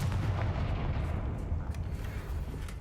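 A fire-spell blast from the Hogwarts Legacy game, booming as a dense, sustained low rumble of continuous explosive roar through the whole stretch, heavy and loud with no speech.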